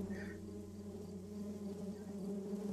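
A swarm of bees buzzing close and steady, a dense droning hum that holds without a break.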